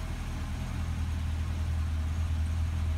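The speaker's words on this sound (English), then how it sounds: "Let's go to the back and hear that little bit of rumble." A 2011 Chevrolet Corvette with an automatic transmission, heard from the rear, rumbles at idle with a steady, deep exhaust chug that holds even and close throughout.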